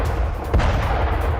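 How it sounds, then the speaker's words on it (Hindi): A blast from a missile strike in Konarak, a single deep boom rising over a low background rumble, fairly loud with no speech. "आपको धमाकों की आवाज सुनाई दे रही होगी। एक के बाद एक धमाके"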